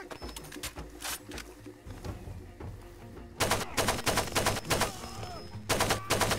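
A gun fires repeatedly in the shooter Far Cry 2, with clusters of sharp shots in uneven bursts, the later volleys louder and closer, set against a low steady background hum.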